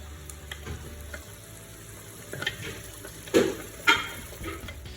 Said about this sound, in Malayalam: ഇനി ഇതിലേക്ക് ആ ഗ്രൈൻഡ് ചെയ്ത പ്യൂരി ഇടാം.